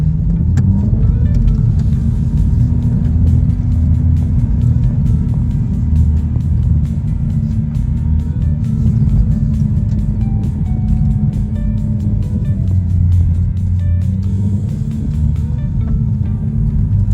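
A car driving a snowy track in the Victorian High Country after a blizzard, a loud steady engine drone and low rumble from inside the vehicle with faint rattles, continuous throughout without talk.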